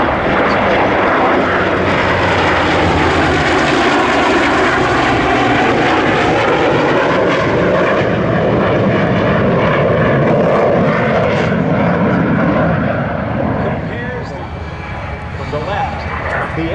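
A US Navy EA-18G Growler and a propeller-driven F4U-4 Corsair fly past together in a legacy flight at an air show, engines roaring loud and continuous at close range before fading slightly at the end.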